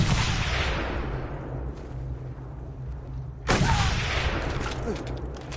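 Sniper gunfire in the Mad Max video game: a loud crack that rings out and fades, then a second sharp shot a few seconds later, with a low steady rumble between the shots.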